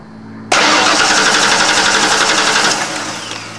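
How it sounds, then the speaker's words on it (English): A 1995 Ford F-250 4x4 engine cranks and catches abruptly, then runs loud and close at a high, steady idle that eases slightly after a few seconds; no talking. "kick the engine over."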